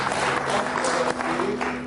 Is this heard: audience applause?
yes